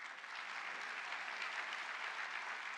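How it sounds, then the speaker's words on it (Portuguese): An audience at a formal swearing-in ceremony breaks into steady, sustained applause, a dense even wash of clapping from a large crowd that carries on without pause. "a quem eu peço uma salva de palmas"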